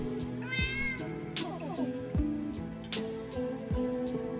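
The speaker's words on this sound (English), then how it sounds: "We hear a cat." A cat meows several times in drawn-out, wavering calls over a background of tonal game music and percussive hits, fairly close and clear.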